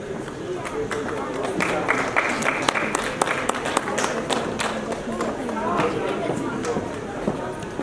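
Audience applause at a ceremony honouring guests, steady, dense clapping from a crowd that swells and holds for several seconds with scattered louder claps, fairly close and filling the space.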